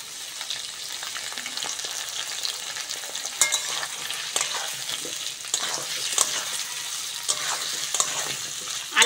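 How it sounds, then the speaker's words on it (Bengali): Potatoes and onions sizzling in a pan with a steady hiss and frequent scraping stirs, close and continuous, no talking. "আলু পেঁয়াজটা এবার ভালো করে ভেজে নেব"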